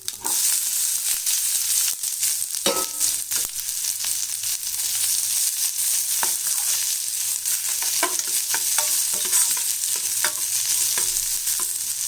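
Onions and green chillies sautéing in oil with mustard seeds and cumin in a pan for a roasted gram kurma: a constant sizzle with frequent spatula scrapes and taps, close and steady, with no talking.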